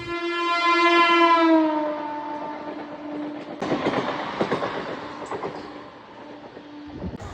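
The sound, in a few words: commuter train arriving at a station in Chennai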